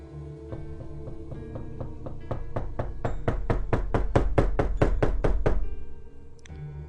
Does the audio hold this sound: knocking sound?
yes